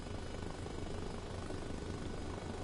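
Steady whirring drone of a helicopter engine and rotor, a constant close and even roar lasting throughout with no talking over it.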